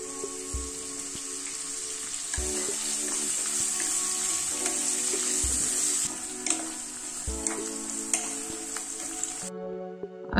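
Chopped spring onion greens sizzling in hot oil with sesame seeds and asafoetida, a steady close hiss throughout, broken by a few soft stirring knocks and scrapes of a utensil in the pan.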